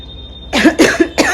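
Three loud, close coughs from a person with a fever, in quick succession after a short quiet lead-in, each a harsh burst with a rough, chesty tail.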